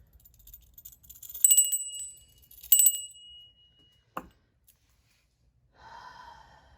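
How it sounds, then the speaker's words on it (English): A bright bell rings twice with lingering metallic tones, followed by a sharp click and then a soft breath or murmur. "And I'm going to pull my bell."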